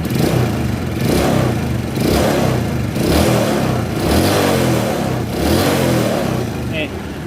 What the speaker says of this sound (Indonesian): Coba saya hidupkan dulu kembali mesinnya